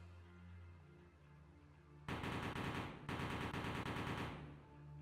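Turret gunfire in a video game rattles out in two loud sustained machine-gun bursts separated by a brief gap, rising sharply over a quiet hum.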